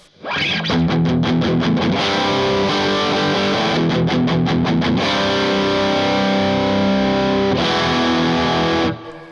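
A KIEDO custom electric guitar with Hathor Nostradamus P90 humbucker pickups plays through heavy distortion, loud sustained chords with quick rhythmic chugging bursts and ringing held notes, alone and without talk.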